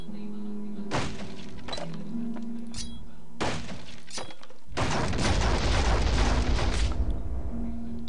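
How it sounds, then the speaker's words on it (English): A video game explosion arrives as several crashing, shattering impacts and then a sustained roaring blast, all loud over a steady droning background. "Wow, okay, that was some sort of explosion that's going on"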